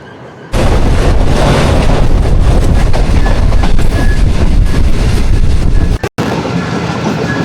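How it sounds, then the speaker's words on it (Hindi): Karakoram Express, a passenger train running between Lahore and Karachi, rumbles loudly and steadily along the rails in hot summer weather, the roar broken by a brief dropout near the end. "ये जी लाहौर से कराची के दरमियान चलने वाली कराकरम एक्सप्रेस"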